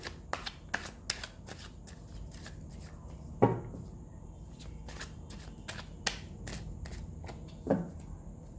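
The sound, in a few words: shuffling tarot cards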